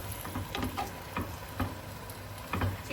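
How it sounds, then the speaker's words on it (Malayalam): Chicken curry stirred in a sizzling pan, with a steady frying hiss under a series of regular scraping, clattering strokes from the spoon roughly every half second. "ചിക്കൻ അടക്കം ഒന്ന് ഇളക്കി നമുക്കിത് അടച്ച് വെച്ച് ഒന്ന് വേവിക്കാം"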